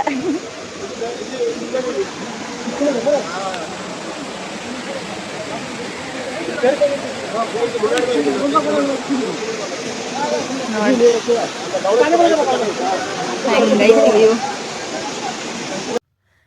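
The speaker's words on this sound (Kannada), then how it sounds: "ಈ ವಾಟರ್ ಫಾಲ್ ಹೆಸರು ಬಂದ್ಬಿಟ್ಟು ವೇ ಸಾಡಾನ್ ಫಾಲ್ಸ್ ಅಂತ" Wawasang waterfall near Cherrapunji in rain, a constant loud wash of falling water with voices talking over it throughout.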